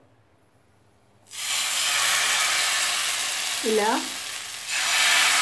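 Instant wheat-flour dosa batter poured onto a hot oiled pan sets off a sudden loud, close, hissing sizzle after a quiet start, holding steady and swelling again near the end, while a voice briefly speaks over it.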